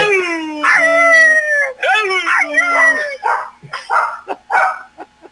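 Several dogs howl loudly and close by, long rising and falling wails that break into shorter yips and barks toward the end.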